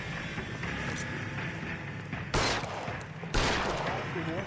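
Gunfire in the L.A. Noire video game chase, with two sharp bursts of shots over a busy, loud background of game sound and muffled voices.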